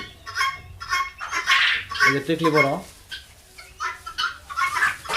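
A rooster on a chicken farm lets out a short run of clucking calls in the middle of a man's close, ongoing speech, with more talk around it.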